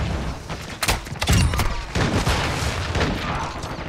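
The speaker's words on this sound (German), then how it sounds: "Und ich renne noch mal in den Mörserschlag" Mortar strikes burst in a Call of Duty: Modern Warfare II multiplayer match, a cluster of sharp booms and crackling blasts over constant battlefield noise, with a louder explosion in the middle.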